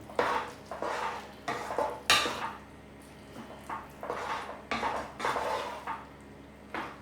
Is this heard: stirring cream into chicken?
yes